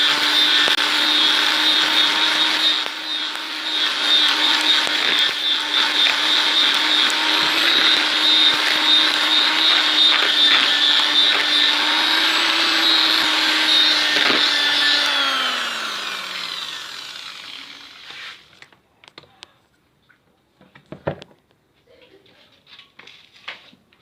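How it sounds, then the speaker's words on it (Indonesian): A mixer blends leftover grated coconut for es doger in a loud, steady whir for about fifteen seconds, then winds down and stops, leaving a few scattered knocks and clatters. "Selanjutnya kita mixer ya teman-teman"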